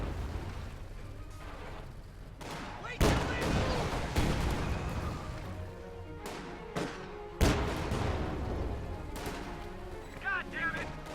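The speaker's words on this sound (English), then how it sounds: "Here comes the AT gun." Anti-tank gun and gunfire in a tank combat video game, with two loud heavy cannon blasts ringing out over a continuous background of distant gunfire and explosions as a capture point is overrun.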